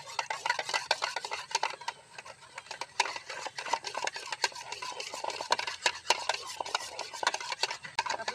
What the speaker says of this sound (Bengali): টক দইটা একটু ফেটিয়ে নেব।